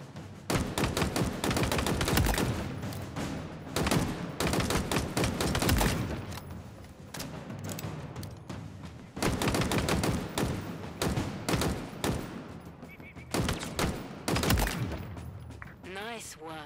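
Sustained automatic gunfire in Halo Infinite target practice, dense loud bursts that come in long volleys with brief pauses between them, and faint game voice in the background.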